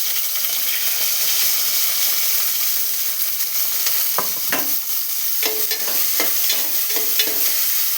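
Onions and curry leaves with fenugreek sizzle steadily in hot oil for a tamarind curry tempering, a continuous close hiss broken near the end by a few scraping stirs of a spoon.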